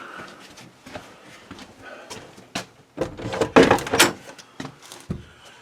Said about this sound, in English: Get this door open.